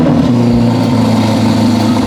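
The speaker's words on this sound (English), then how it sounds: "For a Ferrari Roma, that's insanely loud." A loud, steady engine roar rumbles close by with a deep, sustained tone, a Ferrari Roma revving hard with no voices.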